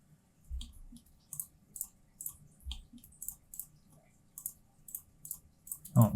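Mouse clicks sound while trees are placed on a Unity terrain, each a crisp, close, isolated tick. They come in an irregular but steady series of a dozen or so, with a soft thump near the end.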